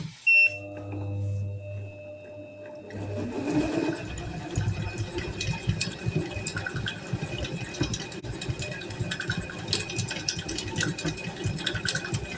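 Water pours into a bowl of pounded yam during mixing, a steady liquid splash and trickle over continuous kitchen handling noise, with a brief tonal hum at the start before the pouring begins.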